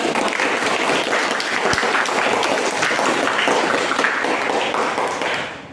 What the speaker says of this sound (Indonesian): berikan dulu tepuk tangan dan semangat untuk